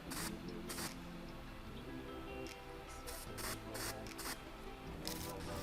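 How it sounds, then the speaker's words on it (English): Short bursts of an aerosol color enhancement spray can hissing during a barbershop fade haircut, several quick sprays in an irregular rhythm over a low background hum. "So you just do a light spray far away"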